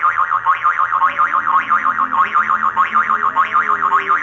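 A springy boing sound effect wobbles continuously in fast, regular oscillations, loud and alone without talk.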